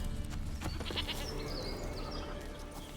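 Within The Witcher 3 game world, a goat bleats in a few short wavering calls over a steady ambient outdoor background, with no talk.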